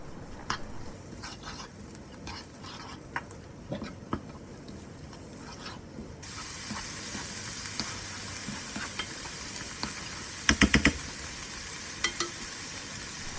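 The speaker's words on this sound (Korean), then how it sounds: "굴소스 한 스푼입니다. 다진 양파와 파를 볶아주세요." Chopped onion and green onion stir-fry in a pan with oyster sauce and sugar. A steady sizzle grows louder about halfway through, and a few sharp clicks of the utensil against the pan stand out near the end.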